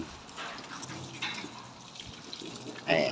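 Water splashing and trickling while a car is washed, a fairly steady wet hiss with a louder spray surge toward the end, with voices faintly present.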